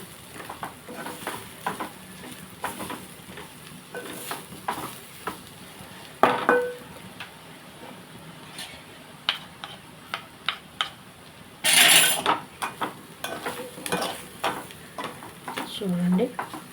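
Ivy gourd fries in a pan with chili powder, making a faint sizzle under frequent spoon clicks and scrapes against the pan, with a louder burst of frying partway through and a short voice near the end.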